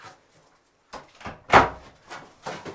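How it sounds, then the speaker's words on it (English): The door of the head on a 2007 Beneteau 343 sailboat is pushed shut, with a few soft knocks and handling clicks building to one louder wooden thump, then lighter taps after it, close by and with no talk. "I'll close the door"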